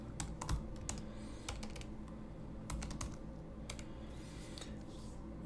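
Quick, fairly faint clicks of typing on a computer keyboard come in irregular bursts over a steady low background hum, with no speech.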